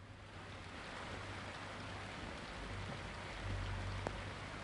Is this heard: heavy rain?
yes